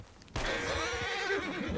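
A horse in a video game lets out a loud, close whinny lasting over a second after a brief quiet moment, with a faint hoof step beneath.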